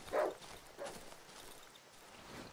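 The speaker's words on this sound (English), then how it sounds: "Oh, that's a dog." A dog in the video game Darkwood gives one sharp bark followed by a fainter second yelp, both somewhat distant against a quiet, hushed background.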